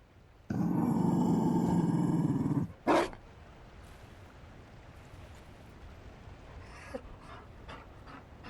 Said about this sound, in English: You found a dog? They don't breed Mabari in Orlais.